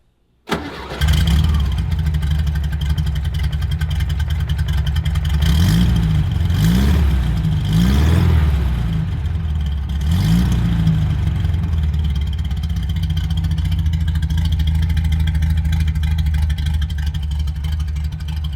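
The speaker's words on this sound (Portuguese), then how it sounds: "Ele tá com um ronco bem parecido com o Herbie dos filmes." A tuned Volkswagen Beetle engine cranks and catches, then idles with a deep, steady rumble punctuated by a few throaty revs, close and loud throughout with no talking.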